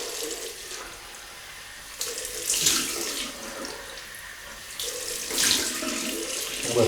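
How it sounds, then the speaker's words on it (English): Cold tap water runs steadily into a sink for a face rinse during a wet shave, a continuous splashing hiss that surges louder in two bursts as hands move through the stream. "Right, cold water rinse."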